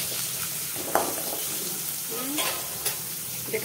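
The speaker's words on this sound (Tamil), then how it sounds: "இருந்த வெங்காயத்தை கட் பண்ணி வச்சுருக்கேன். சரியா, அதை வதக்கிக்கலாம்" Chopped onions sautéing lightly in a pan with a steady soft sizzle, broken by a few scraping stirs of a utensil against the pan; no talking.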